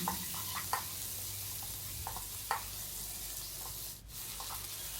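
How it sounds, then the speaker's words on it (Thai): Onion being stir-fried with curry powder in a pan, a steady close sizzle with scattered scraping stir strokes and no talk. "แล้วก็ผัดให้หอมหัวใหญ่นิ่มดีนะคะ"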